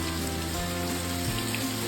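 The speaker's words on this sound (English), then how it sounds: "a rain storm passing through" Steady rain falling on a surface, a constant hiss without pauses and no voices.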